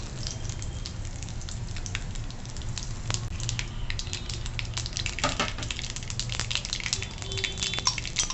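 Mustard seeds and cumin sizzle in a little hot oil for a pumpkin dish, a steady close crackle and hiss running throughout with scattered sharp pops and spatters.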